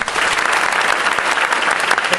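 Sustained audience applause in a lecture hall after a talk on anti-aging results, dense and steady clapping from a crowd throughout, with no other sounds rising above it.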